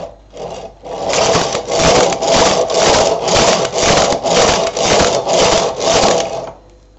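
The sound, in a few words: Silver Reed SK 280 knitting machine knitting a skirt border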